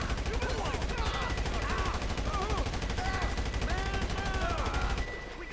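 Sustained rapid automatic gunfire in the video game GTA Online during a cargo ship robbery, dense and continuous for about five seconds before cutting off abruptly, with voices talking underneath.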